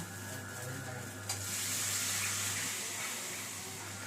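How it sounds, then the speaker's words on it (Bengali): A steady sizzle of spice paste frying, then a sudden rush as water is poured in and the hissing swells. "মশলাটা ভাজা হয়ে গেছে, এবার আমি জল দেবো"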